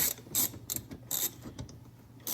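Tightening a screw on an engine block heater in a 2.4 Ecotec engine, heard as a run of brief mechanical ratcheting clicks in short bursts, fairly close and moderately quiet, with no talking.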